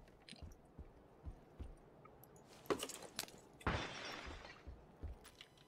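Glass shatters in a battle royale video game, two sharp crashes a second apart followed by a brief tinkling spray, standing out from a quiet background with faint clicks.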